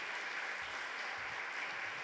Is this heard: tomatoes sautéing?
no